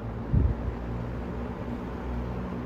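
A vintage GEX/Frigid box fan runs on its high setting with a low, quiet, steady hum and soft airy rush, broken only by a brief thump near the start.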